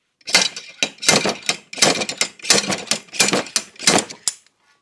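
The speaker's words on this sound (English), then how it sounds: "Thread our slide hammer in there." A slide hammer pulls a bearing from a Polaris Sportsman 570 ATV crankshaft, giving about eight sharp metallic knocks in a steady rhythm, close and fairly loud, with no talking.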